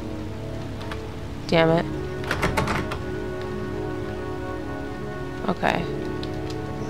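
Rain pours in the video game Heavy Rain as a constant patter under a few hard thuds and clunks, while someone speaks briefly.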